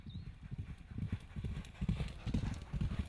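Horse hooves clip-clop at a racing stable, a steady rhythmic walking beat of close hoof strikes on a hard surface, fairly quiet with no talk.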